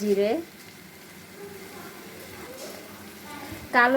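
Cumin seeds fry in hot oil with salt and turmeric in a pan, a soft, steady close-up sizzle that runs throughout, with a voice speaking briefly at the start and end.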